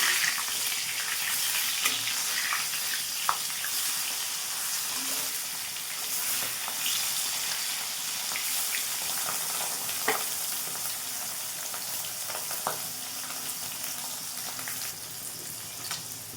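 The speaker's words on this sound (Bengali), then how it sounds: "মাছ এক পিঠ হয়ে গেছে, আরেক পিঠ উল্টায় দেই।" Rohu fish frying in a pan with oil, a steady close crackling sizzle with scattered sharp pops that runs evenly through the whole stretch, with no talk over it.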